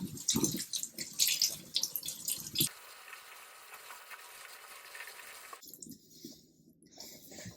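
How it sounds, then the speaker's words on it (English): Running water rinses soapy suds out of a cloth, splashing and gurgling in bursts of wringing and swishing, then giving way to a quieter steady trickle before a final spattering burst. "So then rinse it out really well. Get all those bubbles out."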